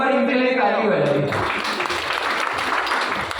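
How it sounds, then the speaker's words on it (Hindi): An audience breaks into applause, a dense, loud wash of clapping that swells in right after a voice and carries on steadily to the end. "नहीं सर जी, एक बार इनके लिए ताली बजाइए"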